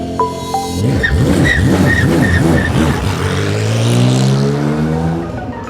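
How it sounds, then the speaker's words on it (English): An Acura race car's engine fires up and revs hard in repeated rising and falling sweeps, loud and close, then settles into a strong steady drone as it pulls away. "Ignition on. You can fire it."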